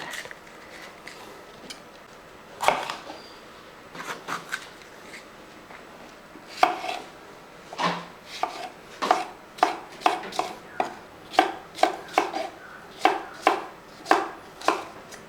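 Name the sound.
knife chopping cabbage and capsicum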